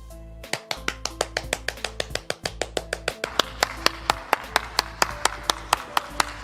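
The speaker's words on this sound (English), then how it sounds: "I'm clapping for myself." A single person claps their hands close by in a steady rhythm, roughly two to three sharp claps per second, over a constant low hum.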